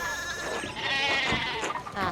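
Sheep bleating in the video game Pentiment, several wavering, harmonic bleats overlapping at close range with no talk over them.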